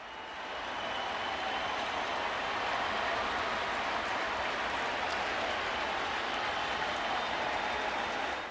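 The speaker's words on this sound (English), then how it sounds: "And listen to this crowd" A baseball crowd roars after a two-run home run by the Braves, a broad, steady wall of cheering that swells and holds without a break.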